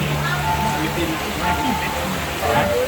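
Steady, dense rain during a fiesta hisses continuously on surfaces nearby, a constant loud wash of water with faint voices beneath it.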